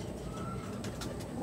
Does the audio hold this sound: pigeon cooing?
yes